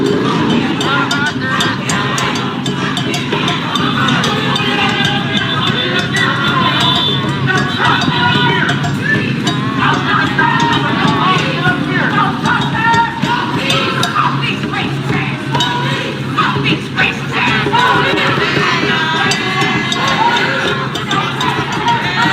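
A protest crowd fills an LA freeway, a loud, dense wash of many voices and chanting noise that continues throughout, with talk mixed into the babble.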